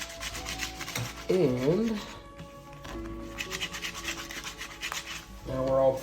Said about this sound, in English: There you go, some micro scoring.